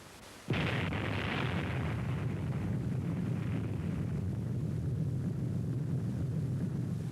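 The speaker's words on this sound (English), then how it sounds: "you will see 2 views of the atomic bomb explosion taken from the observer ships approximately 20 miles from Bikini Lagoon" Atomic bomb explosion of Operation Crossroads Test Able at Bikini Lagoon, recorded from an observer ship about 20 miles away: a sudden sharp onset after a near-silent moment, then a sustained low, rumbling roar.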